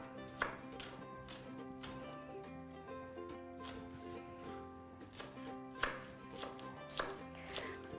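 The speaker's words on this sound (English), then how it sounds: "I'm removing the top and making very thin slices" A knife chops spring onions into very thin slices during preparation of a Chinese-style chicken and rice soup, sounding as soft, irregular taps on a board under steady background music.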